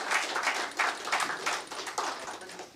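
Audience applause at an awards ceremony honoring a charitable trust, a steady wash of many hands clapping in uneven bursts, moderately loud and continuous throughout, with no voices over it.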